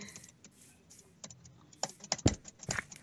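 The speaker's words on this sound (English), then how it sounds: "Beating the keyboard to death." Fast, uneven typing on a computer keyboard, the keys clattering in bursts that grow louder and harder toward the end, heard close and alone at fairly low level.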